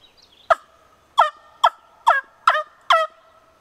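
A mouth-blown turkey wing bone hunting call gives six sharp, raspy yelps in an uneven rhythm, loud and close with nothing else behind them.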